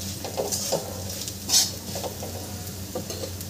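A spoon stirs sugar into a sabudana khichdi mixture in a pan: gentle scraping and swishing with a low sizzle underneath, plus one brighter metallic scrape midway.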